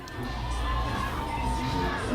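Homecoming night crowd at a high school football game in Dilboy Stadium, a continuous wash of cheering and shouting voices from the stands, steady and moderately loud.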